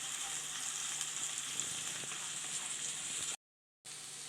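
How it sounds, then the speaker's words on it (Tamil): Shallots and onions sautéing in a pan, an even, steady sizzle with faint stirring that cuts out abruptly to brief silence before resuming. "இப்போ வெங்காயம் வதங்கிடுச்சு."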